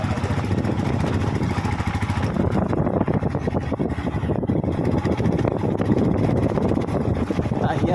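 A motorcycle ridden along a village road, its engine drone steady and close with heavy wind buffeting throughout, and a voice talking over the ride.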